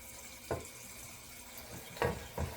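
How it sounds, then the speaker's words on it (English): Two cups of cold water poured into a measuring cup in a home kitchen, heard as a soft, steady stream punctuated by a few brief clinks and splashes. "in a measuring cup, 2 cups of cold water."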